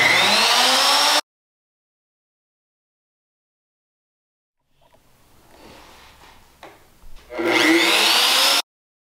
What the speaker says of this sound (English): that was relatively easy to take down with some 60 grit sandpaper